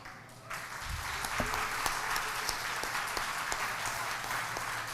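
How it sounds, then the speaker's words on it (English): A dinner audience applauds bar exam passers at a testimonial thanksgiving fellowship, sustained crowd clapping that swells in after a brief quieter start and holds steady throughout. "our audience should give the last round of applause, at least at this turn, my turn, of course, to our"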